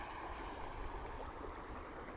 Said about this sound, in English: The river is just over there. That's flowing